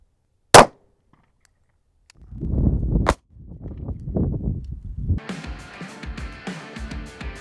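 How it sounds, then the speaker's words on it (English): Springfield XD .40 pistol fired at body armor made from Grade 8 nuts: one sharp, loud shot cracks out near the start, then a clang and rustling handling noises follow. "now we're shooting the Springfield XD in 40"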